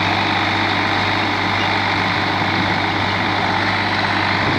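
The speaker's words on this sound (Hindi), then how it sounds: "बहुत ही जोर लगा रहा ट्रैक्टर" A New Holland 3600 47 hp tractor engine labours under load running a rotavator, a loud, close, constant diesel drone with a deep steady hum throughout.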